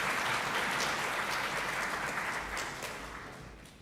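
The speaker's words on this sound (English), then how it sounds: "A big round of applause to the party leader, Mr. Adolf V.L. Chanhima from Party A." Audience applause for a party leader at a youth parliament event in Mizoram, a dense, steady wash of many hands clapping that fades gradually toward the end.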